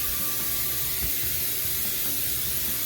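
Pam cooking spray misted onto a cast iron pan, a steady close broadband hiss running unbroken for about three seconds with no talk.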